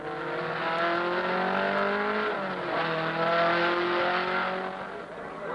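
Trans Am race cars roar around Monterey's Laguna Seca Raceway, engines loud and near, holding a sustained high-revving note that dips as they shift and then climbs again.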